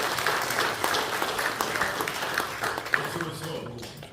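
Attendees at a founding general meeting held in a Seoul press center hall break into steady applause, moderately loud and continuous, with voices mixed in toward the end.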